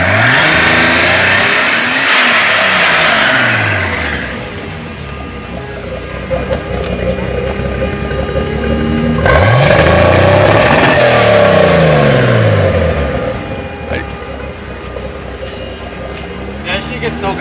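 A 1973 Datsun 240Z with a carbureted single-turbo engine at 10 psi, revved hard twice with rising and falling engine roars, loud and close, with voices talking in between.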